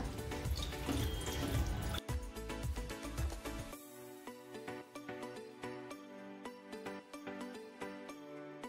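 Mixed colostrum milk for kharvas is poured into a container set inside a heated steamer pot, making a loud, steady splashing pour for about four seconds before it stops, with tonal background music continuing underneath.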